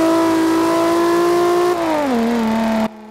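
A Ferrari engine in the racing game Forza Horizon 2 holds a loud, steady high-rev whine, then the pitch drops as revs fall before cutting off abruptly.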